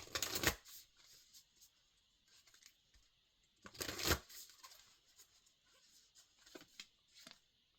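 A Moonology oracle card deck is shuffled in two brisk, crackling bursts, one at the very start and another near four seconds, with lighter card rustles and taps in between and no voices.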